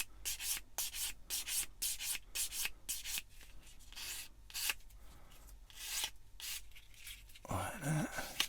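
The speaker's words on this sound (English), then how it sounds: "Go around with your sander." A plastic part from a Bandai Star Wars 1/144 AT-AT model kit is sanded by hand with quick, rhythmic rubbing strokes, close but quiet, ending with a brief scrape.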